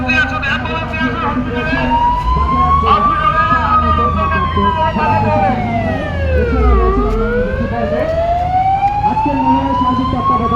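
A Bangladesh Fire Service ambulance siren wails loudly and close by during a rescue at a burning building, its pitch sweeping up and down steadily over engine rumble and a busy street.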